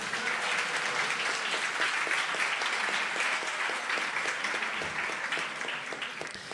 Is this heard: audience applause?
yes